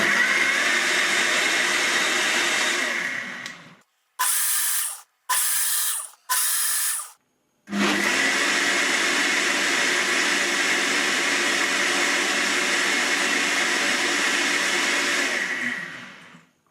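A Hauswirt 1200W eight-blade blender on its smoothie program, blending pear, blueberries and almond milk, roars at a loud steady whine, cuts out for several short pulsed bursts with silent gaps, then runs long and steady before stopping.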